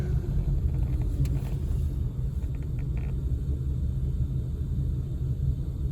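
A poorly running Plymouth Gran Fury on a test drive produces a steady low engine rumble and road noise from inside the car, continuous and fairly loud throughout, with no talk.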